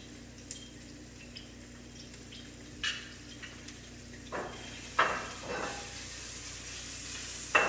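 Flank steak searing in hot oil in a pan, a soft steady sizzle with occasional louder pops and crackles as the meat goes in, swelling toward the end.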